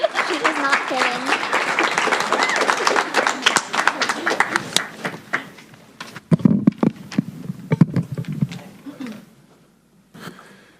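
Excited crowd in a school board meeting room cheering and clapping loudly for several seconds, with voices shouting over it, before the noise tapers off into scattered talk and a few last claps.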